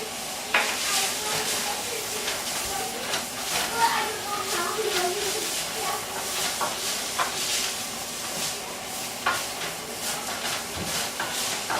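Steady sizzling and hissing of vegetables and garlic frying in a pan, with occasional stirring clatter and faint voices in the background.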